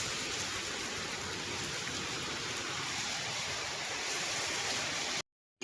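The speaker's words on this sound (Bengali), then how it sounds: "অনেক জোরে তো বৃষ্টি চলে এসছে" Heavy rain pours steadily in a dense, even hiss of drops striking surfaces, unbroken until it cuts off abruptly near the end.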